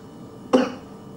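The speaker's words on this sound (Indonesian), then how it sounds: "aduh ini batuk" A single short, sharp cough bursts out close by against quiet background noise.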